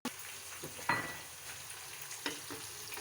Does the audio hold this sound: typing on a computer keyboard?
no